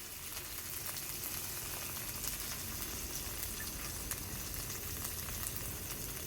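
Coriander powder, turmeric and red chilli paste frying in a pan, a steady, even crackling sizzle close by with faint stirring, no talk.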